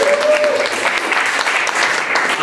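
An audience applauds steadily at a talk, a dense even patter of many hands clapping throughout, fairly loud and close with no pause.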